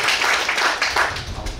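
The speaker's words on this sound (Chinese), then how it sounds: "我们掌声欢迎一下蔡所长。" Audience applause at an academic book launch on Malaysian Chinese festivals and religion, a steady wash of many hands clapping close by for about a second and a half, with no speech over it.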